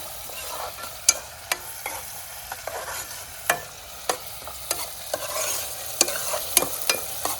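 Spice tempering sizzles in a pan for a crab curry, a soft continuous frying hiss broken by sharp spattering pops and stirring scrapes, close and fairly quiet, with no speech.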